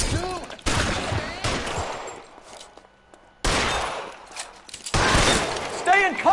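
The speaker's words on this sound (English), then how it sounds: "Keep shooting, I want him dead!" Bursts of rapid gunfire in L.A. Noire come in several dense volleys separated by short lulls, loud and close, with shouted voices mixed in between the shots.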